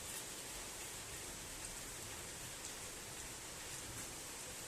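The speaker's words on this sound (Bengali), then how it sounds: "খুব জোরেই বৃষ্টি হচ্ছে" Heavy rain pouring steadily during a downpour, a dense even wash of noise with no breaks, fairly faint and with no voices.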